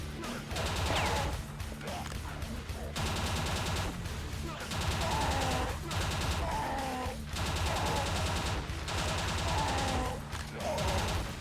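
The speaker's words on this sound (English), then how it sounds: "Oh, it's pretty much like a nail gun." Rapid bursts of nail-gun fire from Quake II Ground Zero, dense repeated shots overlapping with game noise, loud and sustained across the stretch with brief gaps between volleys.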